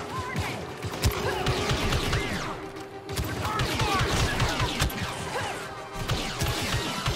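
Blaster gunfire rattles through a Star Wars Battlefront firefight at an Imperial refinery base, with rapid overlapping shots, crashes and impacts continuing loud and dense throughout, and shouted voices mixed in.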